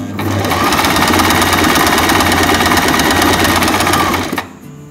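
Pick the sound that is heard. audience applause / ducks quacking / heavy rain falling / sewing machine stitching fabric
sewing machine stitching fabric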